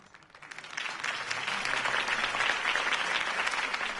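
A crowd applauds after a Harvey Dent campaign speech in a Batman video game, the clapping swelling from quiet to a loud, sustained roar of many hands.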